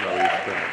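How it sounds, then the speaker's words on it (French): Applause for performing artists at an evening show, a brief dense wash of clapping from the crowd mixed with talk. "On va applaudir, saluer le travail ingénieux de ces Ange Minkala, Jojo la légende, les artistes qui ont presté ce soir"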